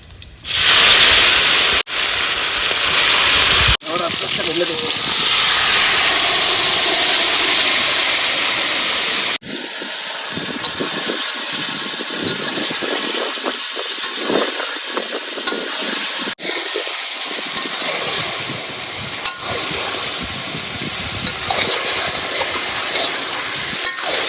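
Turkey meat tipped into hot oil already crackling with cumin, whole garam masala, dried red chillies and bay leaves, a loud broad sizzle and spatter that surges, then settles into a steady fry with stirring scrapes.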